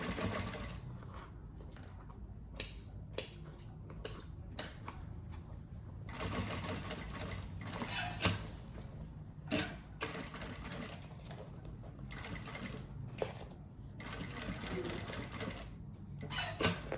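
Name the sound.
sewing machine stitching a toiletry bag seam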